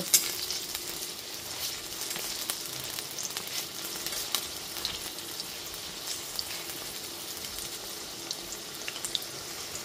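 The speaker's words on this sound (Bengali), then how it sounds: "গ্যাসের ফ্লেমটা মিডিয়ামে রেখে 3 থেকে 4 মিনিটের জন্য বেগুনটা একটু লাল করে ভেজে নেব" Eggplant pieces fry in hot oil over a medium gas flame for Bengali Lakshmi puja bhog labra, giving a steady, close sizzle with a crackling texture and brief spatters throughout, and no talking.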